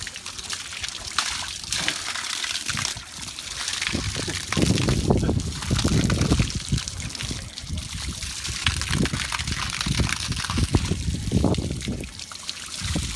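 Cold running water splashes and trickles steadily during an outdoor bath, close and continuous, with bursts of heavier pouring midway and faint voices at times underneath.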